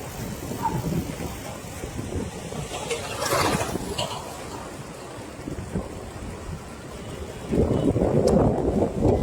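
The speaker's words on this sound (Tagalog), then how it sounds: "medyo malakas yung hangin" Strong wind gusts buffet the microphone with a steady low roar, swelling louder near the end, during a bike ride in the Philippines, and a voice murmurs faintly in the background.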